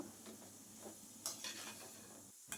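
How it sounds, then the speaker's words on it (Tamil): Snake gourd pieces are stirred with masala in hot oil, a quiet sizzle with soft spatula scrapes and a brief clink against the pan. "அந்த புடலங்காயெல்லாம் சேர்த்துக்கலாம் இப்போ அந்த மசாலா படுற மாதிரி நல்லா வந்து கிளறி விட்டுறணும்"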